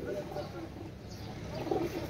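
Pigeons coo in low, throaty bursts at close range, a pair of Pakistani male birds with a steady murmur and light background noise running underneath.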